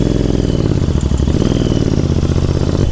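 A Royal Enfield Interceptor 650 motorcycle idles and chugs in gear on an off-road track, its low engine thrum steady and close throughout with faint clatter.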